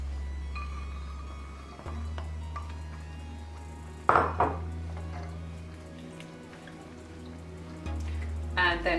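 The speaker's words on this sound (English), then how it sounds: "Then add the vegetables, the sweet potato and the pepper." Sweet potato, pepper and drained black beans tipped into a cooking pot, with soft clatters and clinks of utensils against metal, a couple of sharper knocks and a quiet rattle near the end.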